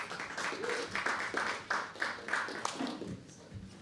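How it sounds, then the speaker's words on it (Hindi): An audience at a live poetry open mic claps for a poet, steady broadband applause rising and falling over about four seconds with some voices mixed in. "एक बार और जोरदार तालियां सौरभ के लिए दोस्तों"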